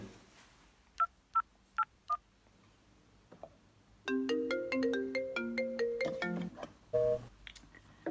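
A telephone is dialed and then rings: a few scattered key beeps come first, followed by a quick run of melodic dial tones and a final ring tone, close and clear with no voices.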